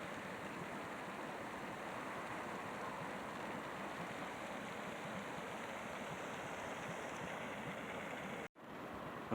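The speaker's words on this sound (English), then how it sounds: "So it's bubbling down there. You hear it steaming?" Steady broadband hiss and rush of a bubbling, steaming hot spring at Norris Geyser overlook in Yellowstone, constant and moderately loud throughout, cut by a brief dropout near the end, no voices.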